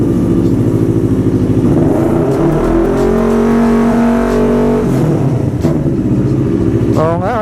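CFMoto NK400 motorcycle engine revved hard in a throttle test, sustained loud roar with a rising then held pitch, the revs dropping back slowly after release, ending with a short burst.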